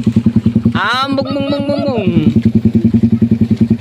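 A motorcycle exhaust revs up nearby at an outing, a fast chugging idle that swells into a rising, wavering rev for about a second before settling back to a rapid putter, with a voice speaking briefly.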